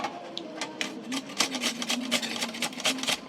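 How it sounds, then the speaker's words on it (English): An ingredient for a homemade dark-spot remover skin cream being grated with its skin left on, rapid rhythmic rasping strokes close up, steady and fairly quiet with no talking. "we're going to grate this"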